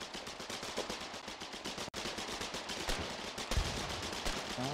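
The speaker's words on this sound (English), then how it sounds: "Can you shoot to the left of me?" Sustained automatic gunfire in the war game Foxhole, a dense rattling stream of rapid shots with a brief cut near the middle and a heavier thump toward the end, fairly distant and without talk.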